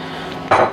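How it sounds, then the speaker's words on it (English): Cooked sausages tipped into a casserole pot of simmering stew, a brief soft clatter and clink of utensil against the pot near the end of a quiet moment. "So I'm just going to put our cooked sausages in."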